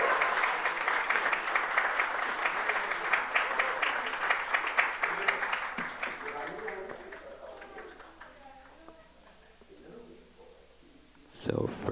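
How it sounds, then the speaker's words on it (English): A church congregation applauding together, loud sustained clapping that thins out and fades over several seconds before a brief burst at the end. "Let's clap."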